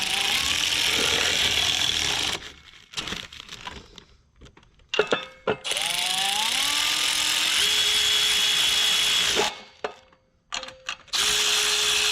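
A ratchet turns a 10mm bolt that holds the wiring harness on the intake of a 3.4L 5VZ-FE engine in a 3rd gen 4Runner, making bursts of close, rapid clicking broken by short pauses and other workshop handling noises.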